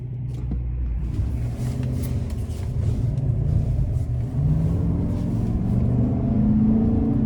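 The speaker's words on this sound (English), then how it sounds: "let's go ahead and take this 2025 GMC Sierra 1500 AT4X out on the road for a test drive" A 2025 GMC Sierra 1500 AT4X pickup with a 6.2-liter engine drives on the road, heard from inside the cab as a steady, loud low engine rumble that swells slightly as it accelerates, with no talking.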